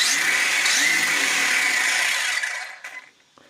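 An HPI mini monster truck RC car revs up into a loud, sustained high-pitched electric whine that holds steady for over two seconds, then winds down with a few brief blips before stopping.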